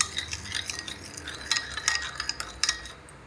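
A spoon stirs a brown sugar and salt mixture for lemon garlic chicken fillet, giving repeated light clinks and scraping against the bowl in an uneven rhythm, close by with no talking.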